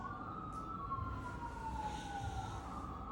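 A wailing siren rises and falls in the distance, faint over a steady low rumble of background noise.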